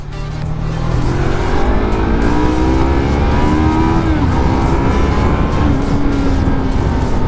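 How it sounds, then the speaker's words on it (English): A Yamaha MT25 motorcycle engine revving and accelerating, loud and close, its rising whine climbing steadily through the gears with no talk over it. "So later we'll be testing out the power of this bike, the speed, and also the torque."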